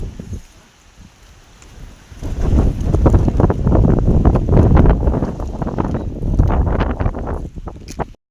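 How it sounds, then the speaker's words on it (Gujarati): Strong gusting wind during a small storm with thunder: a low, roaring buffet that swells loudly after a quieter start and keeps surging in waves close to the microphone. "પવન તા જો"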